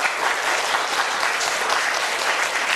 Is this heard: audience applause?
yes